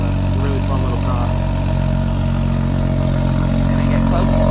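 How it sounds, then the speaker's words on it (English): BMW X4 M40 engine and exhaust idling in sport mode, a deep steady rumble with a constant low hum, close by and unbroken throughout. "When you have it in sport mode, the exhaust is a lot more aggressive."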